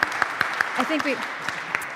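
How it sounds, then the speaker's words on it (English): Audience applause for a panelist at a climate policy conference session: light, scattered claps running under a talking voice for a couple of seconds. "You can also clap if you like"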